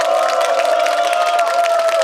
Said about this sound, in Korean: 여러분들의 그 응원의 박수가 좀 필요할 것 같습니다